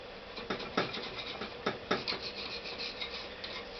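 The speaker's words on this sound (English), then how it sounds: "Peel off the old gasket. Use a very sharp chisel." A sharp chisel scrapes an old gasket off a Honda GL500 motorcycle's dynamo or alternator housing, giving close, repeated rasping strokes over a steady background hiss.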